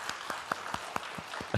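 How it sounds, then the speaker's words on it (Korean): A church congregation applauds for infants and preschool children, with a brief spatter of hand claps at a fairly steady rhythm. The claps are faint and slightly distant, with no talking. "우리 친구들을 위해서 한번 큰 박수 해주시겠습니까?"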